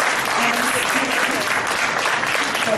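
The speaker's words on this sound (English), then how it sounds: "Please give a round of applause again for our panelists." Steady, dense applause from a conference audience for the panelists at a climate change and food security panel, filling the whole stretch at an even loudness with no break.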